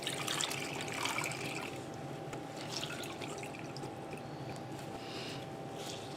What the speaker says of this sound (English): I'm just going to wet it in the water.